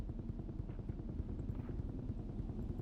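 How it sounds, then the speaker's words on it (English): Rescue helicopter flying in the ICED survival video game, a continuous low rumbling rotor drone with dense rhythmic pulsing, steady in level and not covered by any speech. "There's the helicopter there."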